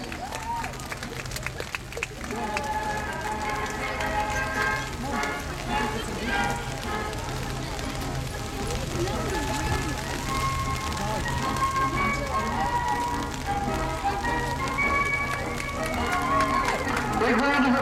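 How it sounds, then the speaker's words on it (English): Outdoor crowd applause on a rainy beach after a Royal Marines display team performance, a long spread-out patter of clapping under steady rain, with a voice talking over it through much of the stretch. "Big round of applause, ladies and gentlemen, boys and girls."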